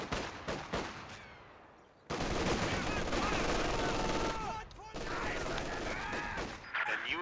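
Machine gun bursts and scattered gunfire crackle through a video game battle, loud, dense and chaotic, with a brief lull before the shooting surges back.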